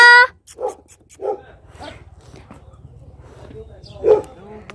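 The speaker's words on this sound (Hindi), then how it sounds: "गंदे डॉगी तूने मुझे डरा दिया।" A dog barks near a traditional homestay in Almora in the Himalayas: three short, clear barks spaced apart over a low background rumble, with a brief voice at the start.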